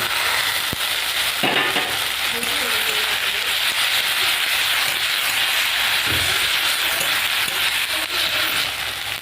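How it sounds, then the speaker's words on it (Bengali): Tomato and green chilli fry together with onions in a hot pan, producing a loud, continuous sizzle and crackle with occasional stirring knocks, close to the listener. "এগুলো আমি ভালো করে ভেজে নিয়েছি"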